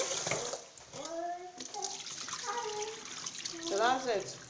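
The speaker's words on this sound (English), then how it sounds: "And now this is the third time I'm rinsing it." Basmati rice swished and rinsed in water in a bowl at a sink, a soft continuous splashing and trickling under a voice and some talk.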